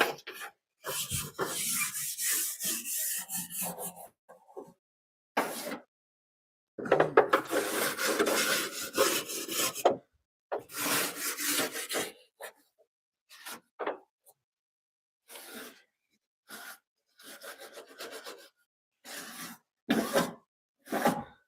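A brush scrubs dirt and debris out of a car taillight housing in irregular bursts of close, gritty rubbing, separated by quiet gaps.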